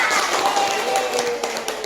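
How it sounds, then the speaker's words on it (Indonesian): A classroom of students claps for a classmate during a science lesson, a brisk scatter of hand claps mixed with young voices, close and moderately loud throughout. "Tepuk tangan dulu untuk temannya."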